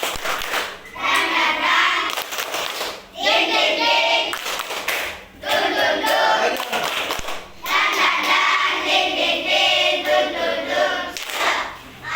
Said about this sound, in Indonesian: Kita melakukan tepuk semangat. Hitungan ketiga. Tepuk semangat.